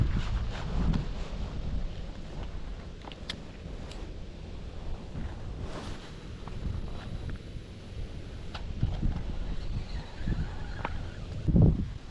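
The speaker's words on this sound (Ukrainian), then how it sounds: "Но вітер сильніший." Strong wind rumbles and gusts against the microphone throughout, loud and low, with occasional thumps and faint background noise, on the bank of the Prut River.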